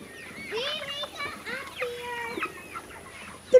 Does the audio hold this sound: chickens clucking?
yes